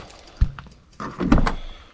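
A white truck's cab door is opened nearby in a garage, giving a sharp thunk of the latch followed by a longer creaking, rustling swing of the door.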